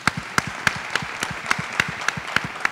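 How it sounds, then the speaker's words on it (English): Audience at a New Orleans education event claps for a prize-winning teacher, heard as a near, even rhythm of sharp claps repeating about three times a second. "We can clap for that."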